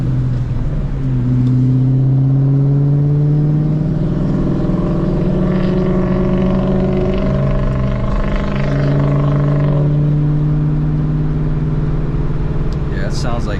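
A Ford Mustang Terminator Cobra engine drones loud and close, revving up in rising sweeps that hold, dip and climb again over a rough idle, with a brief clatter near the end.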